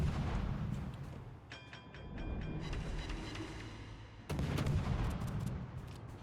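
Tank cannon fire in a war video game, heavy booming shots with a rumbling low end and a loud blast near the end, over a constant battle din with no talk.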